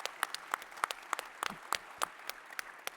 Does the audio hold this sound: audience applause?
yes